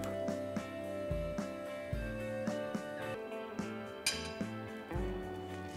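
Seasoned raw salmon tartare, dressed with lime juice and olive oil, is stirred with cutlery in a bowl, giving repeated close clinks and scrapes of metal against the dish in an irregular rhythm, with no voices.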